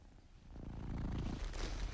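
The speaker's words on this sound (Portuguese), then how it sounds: "E há o ronronar." A domestic cat purring softly and close, a low rumbling drone that swells after a quiet start and then holds steady with a faint rhythmic pulse.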